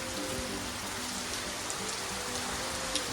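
Dense, steady downpour of heavy monsoon rain drumming on surfaces in a Konkan village, constant hiss with occasional louder drops, no voices.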